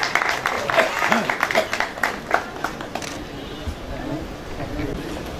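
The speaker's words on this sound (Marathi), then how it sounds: "ओंकार टाळ्या वाजवा." Audience at a golden jubilee function of a local association clapping together, a steady patter that swells then thins out, with voices talking over it throughout.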